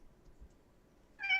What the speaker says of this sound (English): I fucking love hearing that little kitty in the background